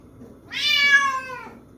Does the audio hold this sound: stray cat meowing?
yes